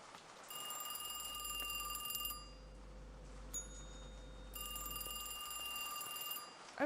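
A telephone rings in the horror game Kiosk in two sustained shrill bursts separated by a pause, set over a steady low hum.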